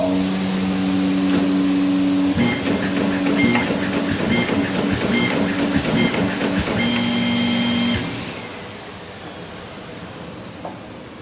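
Bacciottini OXO Multiskill creasing and folding machine perforating sheets, a loud steady mechanical rumble with rapid rhythmic clatter and high whining tones, running for about eight seconds before winding down.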